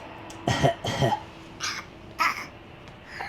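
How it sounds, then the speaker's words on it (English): A young child gives several short, breathy fake coughs, two close together then a few more spaced out, fairly near and moderately loud. "Show me your fake cough."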